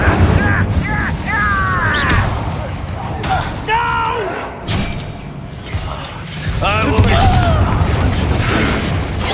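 An Incendio fire spell is cast in the Hogwarts Legacy video game, giving booming bursts and thuds amid clattering combat, with character voices calling out over the action.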